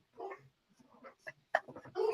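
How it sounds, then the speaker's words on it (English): Dogs bark and whimper in short, irregular bursts at moderate distance, fairly faint, with no talking over them. "the dogs are barking"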